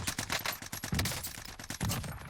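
Rapid bursts of Krig rifle fire in Call of Duty Warzone, after a recoil nerf, crack out in quick succession with heavier low thumps about a second apart, loud and close with no talking.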